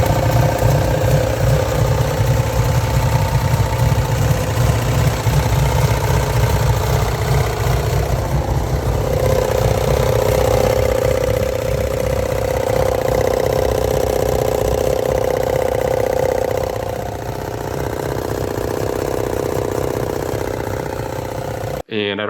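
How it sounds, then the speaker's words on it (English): A small-block Chevy V8 swapped into a Mazda RX-7 runs at a steady, loud idle with a rapid, rough knocking pulse throughout, easing slightly in the final seconds. "a loud, horrible smacking noise coming from the motor"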